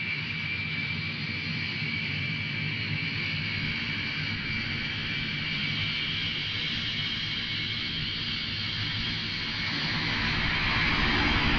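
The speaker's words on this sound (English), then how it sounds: "I'm ready for takeoff, Captain Scarlet." An aircraft takes off as a TV show sound effect: a steady jet-engine roar with a high whine that swells slightly louder toward the end.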